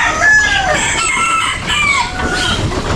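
Six-month-old Boston over white jacket gamefowl roosters crow loudly and close, several overlapping drawn-out calls mixed with clucking from a busy flock.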